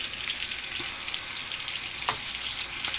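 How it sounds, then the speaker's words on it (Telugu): Ginger garlic paste frying in a pan for biryani, a continuous close sizzle with a couple of faint stirring scrapes, no voices. "ఆ తర్వాత మూడు స్పూన్లు అల్లం వెల్లుల్లి పేస్ట్ వేసుకోవాలి"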